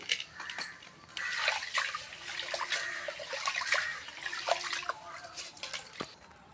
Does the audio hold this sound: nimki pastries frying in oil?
no